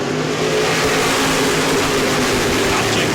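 Race car engines roar on the track at New Smyrna during the World Series, a dense, continuous mid-pitched drone with revving, loud and steady throughout.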